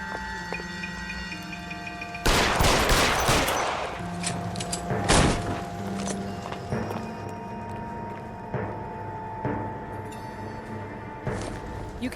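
Video game gunfire crackles in bursts of sharp shots and rapid volleys, with loud blasts early on and scattered shots afterward over a background game soundscape.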